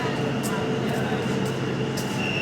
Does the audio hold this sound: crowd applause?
no